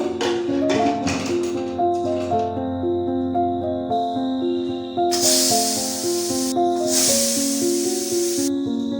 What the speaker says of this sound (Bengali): প্রেশারে ঢাকনা দিয়ে তিনটে সিটি মারা অবধি অপেক্ষা করব